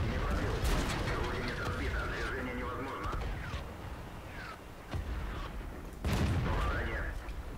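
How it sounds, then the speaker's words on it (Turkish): An artillery strike in the World of Tanks video game lands as loud booming blasts and rumbling explosions, with a heavy impact near the end, while someone talks excitedly over the top. "Ve buraya topçu saldırısı çekeceğim hemen."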